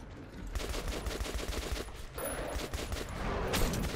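Rapid bursts of automatic gunfire in the video game Metro 2033 Redux, dense fusillades of shots rattling almost continuously with short gaps, loud and close, with no talking over it.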